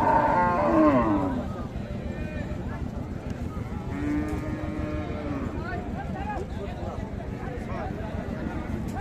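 Sahiwal cows and calves at the Raniganj cattle market in Dinajpur moo loudly, one long close bellow at the start and another drawn-out moo midway, over a constant crowd murmur with people talking.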